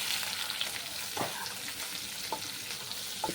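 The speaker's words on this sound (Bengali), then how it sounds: "তেলটা গরম হয়ে গেছে, এই চিংড়ি মাছগুলো আমি ভেজে নিচ্ছি" Shrimp fry in hot oil in a kadai, giving a steady close sizzle with occasional sharper pops and a few stirring scrapes, with no voices.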